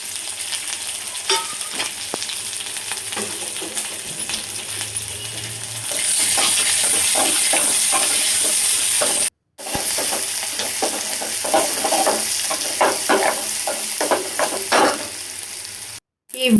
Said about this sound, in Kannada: ಈ ಗೋಲ್ಡನ್ ಫ್ರೈ ಆಗಿರೋ ಈರುಳ್ಳಿಗೆ ಈ ಮೊಟ್ಟೆ ಎಲ್ಲ ಮೀನಿನ ಮೊಟ್ಟೆಗಳಿತ್ತಲ್ಲ ಇದನ್ನು ಹಾಕಬೇಕು